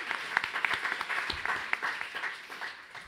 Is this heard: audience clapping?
yes